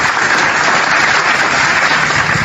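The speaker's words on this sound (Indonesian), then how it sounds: "Saya harus tepuk tangan dulu ini." One person claps along during an online debate, giving a continuous dense patter that sounds like applause and holds steady and loud throughout.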